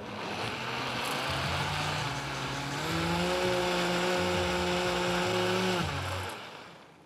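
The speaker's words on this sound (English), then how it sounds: "Then we just blend." A blender whirs through buckwheat crepe batter with salt, pepper and canola oil, a loud steady motor drone that rises in pitch midway as the blades speed up, then cuts off near the end.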